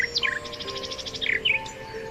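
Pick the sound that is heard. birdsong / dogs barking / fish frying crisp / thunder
birdsong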